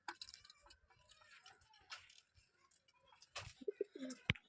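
Pigeons coo softly at a poultry market stall, with low rolling coos and a few brighter calls clustered toward the end, close by over faint background rustle.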